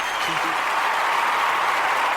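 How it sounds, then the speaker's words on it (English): Studio applause on a radio health call-in show, a steady wash of clapping at even level throughout, with a brief voice-like tone near the start. "Give a bit of applause to that one."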